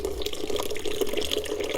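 Water pours in a quick, bubbling stream into a blender with curry powder, about a cup, close and continuous for a couple of seconds.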